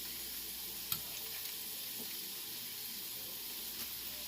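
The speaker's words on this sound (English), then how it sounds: "make sure that you're paying attention when you're frying your potatoes" Quiet, steady sizzling of potatoes frying in a pan, with a faint clink or two against the hiss.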